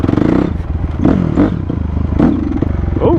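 A Honda CRF250R dirt bike engine revs at about three-quarter throttle, a loud, close, pulsing motor roar with rising and falling surges throughout and a brief exclamation near the end.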